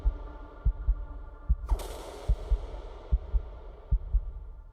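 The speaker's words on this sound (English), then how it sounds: "There's a heartbeat." Heartbeat sound effect in a music video: regular low double thumps, lub-dub, repeating steadily throughout under a humming musical bed, with a bright swell entering midway.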